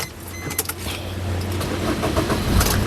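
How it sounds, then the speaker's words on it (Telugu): A 2015 Maruti Swift Dzire VDI diesel car starting on a single crank, with a brief starter whirr followed by a steady low engine hum that runs close and continuous through the clip. "సింగిల్ సెల్ఫ్ లో కార్ స్టార్ట్ అవుతుంది ఎటువంటి స్టార్టింగ్ ట్రబుల్ అయితే లేదండి"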